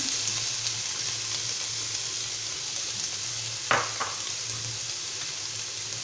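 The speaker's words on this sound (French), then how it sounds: "On va laisser rissoler un petit peu." Onion and garlic cloves gently sizzling in plenty of olive oil for a paella-style rice, a steady, even hiss interrupted once by a sharp clank of a utensil against the pan.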